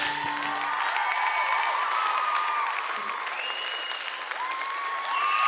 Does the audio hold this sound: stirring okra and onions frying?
no